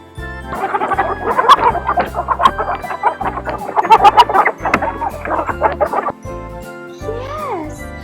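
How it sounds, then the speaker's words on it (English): A hen clucks in a series of short, rhythmic calls over a bouncy children's music backing with tinkling tones, ending in a few rising and falling notes. "Now that's the sound of a hen."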